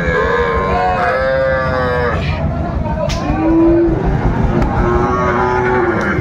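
Young bull calves at a farm in Lakshmipur moo loudly and repeatedly, close by, with several overlapping calls while people talk nearby.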